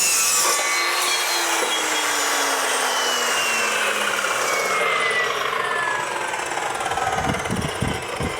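Saw cutting through metal, a steady loud grinding whine held throughout, close by, with no talk.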